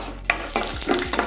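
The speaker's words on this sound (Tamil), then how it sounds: "அதுக்கப்புறம் உளுத்தம் பருப்பு, இது நல்லா கொஞ்சம் ஃப்ரை ஆகட்டும்." Urad dal sizzles in ghee in a pan, with a soft continuous frying hiss and a few brief scraping stirs close by.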